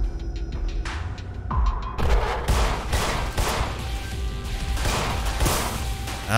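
Sharp, loud gunshots ring out in quick bursts amid booms and rattling impacts, a chaotic firefight in the horror game In Sound Mind with no talking.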